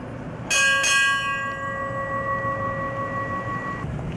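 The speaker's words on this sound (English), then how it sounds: "Go ahead, ring it again. I want to hear it." A bell is struck twice in quick succession, then its clear ringing tone hangs and slowly fades for a few seconds against a faint outdoor background.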